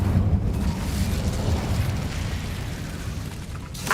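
Fire spell cast in Hogwarts Legacy, a steady roaring whoosh of flame with low rumbling bursts that runs the whole stretch at a loud, near level.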